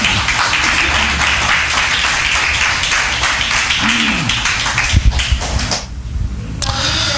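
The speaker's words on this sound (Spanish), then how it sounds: "Den un aplauso fuerte al Señor." Congregation in a church applauds loudly during a sermon, a busy, close patter of clapping and taps with some thuds, thinning out toward the end.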